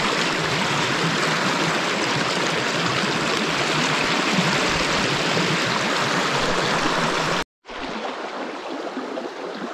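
A strong river current rushes through a beaver-dammed river in a dense, continuous roar of flowing water close by, cutting out briefly near the end before resuming slightly quieter.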